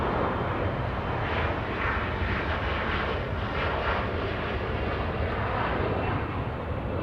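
Hawaiian Airlines Airbus A330 jet arriving on the south side runway at Los Angeles International Airport, a steady broadband engine roar holding loud and constant throughout with no voices.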